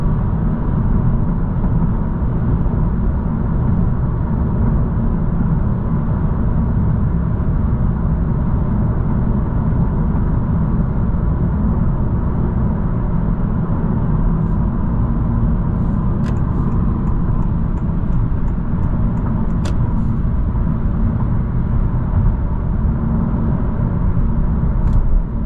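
A 2022 Honda Civic Touring cruises on the highway, its cabin filled with steady, loud broadband road and tire roar and low rumble that stays constant throughout, with faint brief ticks late on and no one talking.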